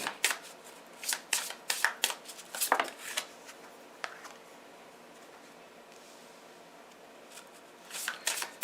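Tarot cards are shuffled in quick, crisp riffling bursts up close, fairly quiet, with a pause before a final short flurry.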